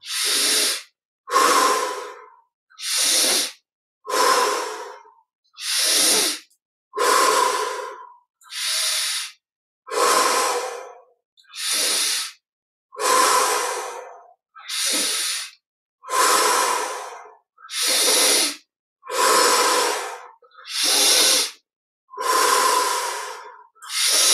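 Slow, deep breaths during a guided meditation, about fifteen long inhale-exhale cycles in a steady rhythm, each a close, airy rush separated by short silences, with no talking.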